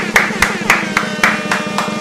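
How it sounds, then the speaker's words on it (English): A talk-show audience welcomes Perfecta Malinga, CEO of the Mzansi Kwaito and House Music Awards, with clapping: sharp claps fall in an even, steady rhythm about four times a second, close and moderately loud, with no one speaking. "Come on, let us give him an applause."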